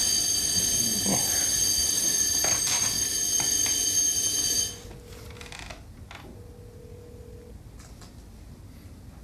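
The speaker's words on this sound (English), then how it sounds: "Fire alarm testing maintenance." A building fire alarm sounds during maintenance testing, giving a steady piercing tone for several seconds before it cuts off abruptly, leaving quiet room noise and a faint intermittent beep.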